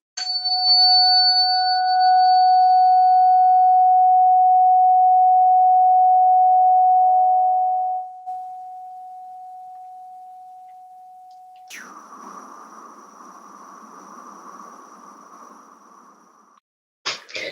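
A steady, clear high-pitched pure sine tone rings out loudly in a sound healing session, holds for several seconds, then continues more faintly before a brighter tone takes over with a soft hiss.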